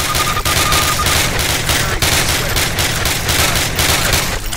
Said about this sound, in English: Exchange your Springfield for one of the Thompson submachine guns on the table.